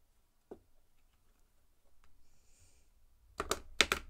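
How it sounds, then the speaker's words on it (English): A brief flurry of rapid card riffling near the end, preceded by a single soft tap and faint handling noises in a quiet room. "Now I can try here to riffle shuffle"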